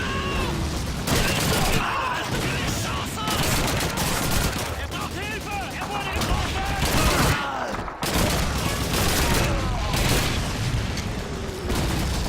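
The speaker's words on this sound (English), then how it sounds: "I feel like I'm using the MP40 too much, but it's just so easy to use, there's so much ammo for it." MP40 submachine gun fire in Call of Duty 2, repeated rapid bursts and booming shots in a dense battle soundscape, loud and continuous with a short pause in the middle, and voices mixed in.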